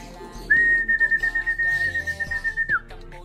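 A person whistles one sustained high note for about two seconds, pulsing slightly, calling pigeons down, over faint background noise.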